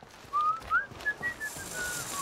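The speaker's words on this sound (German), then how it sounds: "Schwupps, schon ertappe ich mich dabei, wie ich ein Weihnachtslied pfeife" A single person whistles a Christmas song in a German radio play, a clear wavering melodic line of several notes heard close over soft background noise.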